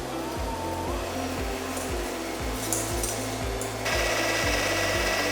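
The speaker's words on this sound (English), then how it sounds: "I'm starting whipping again my egg whites." An electric mixer whips egg whites for mousse with a steady motor whir, beaters knocking in a regular rhythm, then jumping to a higher, louder speed near the end.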